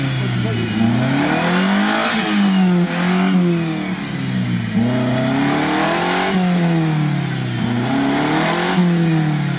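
A Suzuki Grand Vitara off-road revs its engine hard in repeated rising and falling surges, loud and close, with rough outdoor noise and people talking in the background.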